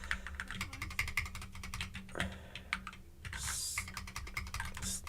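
Rapid, uneven typing on a computer keyboard during a live C programming session, close and crisp clicks in bursts with brief pauses and a faint hum underneath, no speech.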